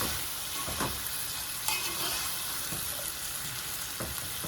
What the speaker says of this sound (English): I'm going to stir all this together